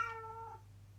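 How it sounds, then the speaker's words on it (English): A single short cat meow, a quick descending sound effect, faint and alone against a low steady hum. "now I know it's a cat"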